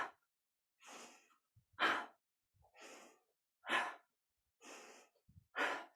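Slow, deep breaths during a yoga somatics practice, each audible inhale and exhale rising and falling in a calm, even rhythm, close and quiet with no talking.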